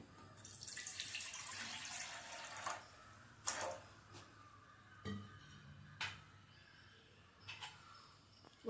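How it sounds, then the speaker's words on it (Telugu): Water is poured into a pan on a lit gas stove in a village kitchen, a steady splashing pour for a few seconds followed by scattered drips and clinks. "వాటర్ పోస్తున్నాను."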